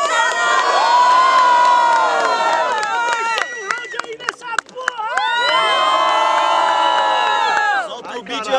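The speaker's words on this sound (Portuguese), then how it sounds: "barulho pro Santa Caia aí nessa porra!" Crowd at a Brazilian student rap battle cheers and shouts loudly with whoops and screams, swelling, dipping briefly in the middle, then rising again, close and continuous.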